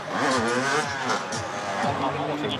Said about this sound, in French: La moto réapparaît.